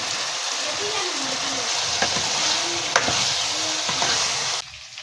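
Chicken curry sizzles and crackles in a pan while being stirred, with scraping strokes and spatula knocks, before the sound cuts off abruptly near the end.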